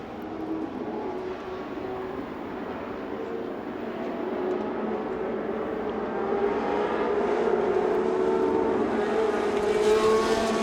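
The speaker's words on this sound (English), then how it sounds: "The field of 24 Formula 2 cars is unleashed at the Silverstone Festival." A pack of 24 classic Formula 2 race cars roars off together at Silverstone, engines droning and building steadily in volume as the field accelerates, with no voices.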